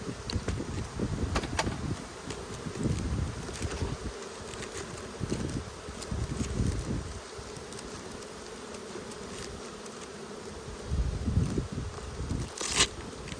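Honeybees hum and buzz around an open hive during an inspection in Australia, with a continuous drone and louder swells as bees pass near, plus occasional clicks and scrapes of handling.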